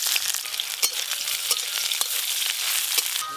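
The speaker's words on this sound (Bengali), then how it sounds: "সর্ষের তেল দেব, ফোড়নে 5 ফোড়ন আর শুকনো লঙ্কা দেব। এবার দেব পেঁয়াজ কুচি।" Chopped onion dropped into hot mustard oil with five-spice tempering and dried chilli, giving a loud, close, crackling sizzle broken by several sharp stirring clicks against the pan.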